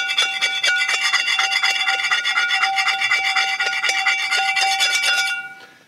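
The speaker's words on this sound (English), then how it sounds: "I'm just gonna give it a good scrape." Steady, rapid rasping as a metal scraper works a cast iron skillet clean at a campsite, loud and close, a dense rhythmic grind for about five seconds before stopping abruptly.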